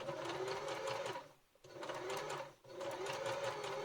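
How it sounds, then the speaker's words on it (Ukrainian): A sewing machine runs a line of stitching right along the edge of fabric for a drawstring bag, in two loud steady bursts split by a short pause, with no voices. "І по самому краю я зараз виконую строчку з закріпками."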